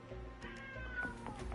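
A cat meows inside the video game Wuthering Waves, several short calls over a steady bed of game music and ambience, fairly close and moderately loud.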